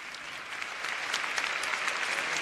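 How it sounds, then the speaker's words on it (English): A keynote audience breaks into applause for a group of pioneers, a steady crowd clap that swells slightly louder partway through. "Let's clap it up for these pioneers."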